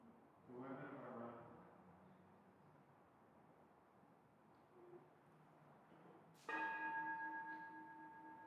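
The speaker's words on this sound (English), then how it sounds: "A bell will ring." A meditation bell in a devotional service is struck once, ringing out loud and clear with a long, slowly fading tone after a short spoken passage and a quiet pause.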